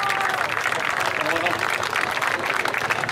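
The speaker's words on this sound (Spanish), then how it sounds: "Un aplauso para Monse," A crowd at a motorcycle club's second-anniversary celebration applauds, with dense, continuous clapping and loud noise sustained evenly from start to finish.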